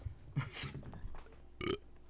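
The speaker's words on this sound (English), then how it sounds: "I definitely made my audio spike with that burp" A loud, throaty burp with a short second belch after it, close to the microphone and standing alone without speech over it, during a casual podcast recording.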